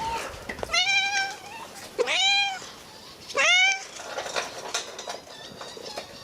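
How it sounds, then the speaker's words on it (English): A hungry pet cat named Charlotte meows three times, each a rising then falling cry with short pauses between them, close and clear over quiet background shuffling. "The hungry kitty's back."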